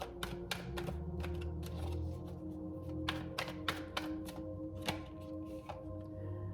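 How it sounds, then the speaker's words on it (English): Tarot cards shuffled by hand off to one side, giving a run of quick crisp riffling taps and flutters at steady moderate loudness over a low background hum, with no talking. "sorry, I keep shuffling the cards off camera."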